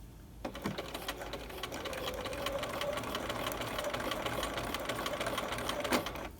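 A sewing machine stitching piping along a V neckline, running in a steady fast whir of needle strokes for several seconds after a short start, close and fairly quiet.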